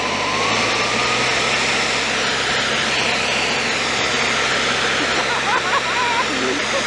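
A large PTO-driven turbine blower on a mowing machine drones steadily at low revs, a constant loud whooshing rumble with no letup.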